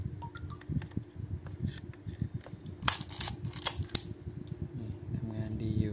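A Yashica Electro 35 G camera shutter fires on bulb setting, giving a few sharp mechanical clicks spaced seconds apart over a quiet steady hum, close and faint, with someone talking softly.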